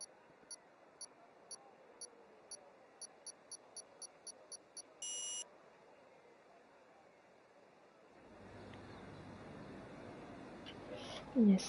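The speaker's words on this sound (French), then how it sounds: "j'entends les bips, ça va partir" Race start beeps in a Silverstone racing video game: a series of short, evenly spaced high electronic beeps counting down, ending in a longer tone, followed by a rising engine and crowd-like wash.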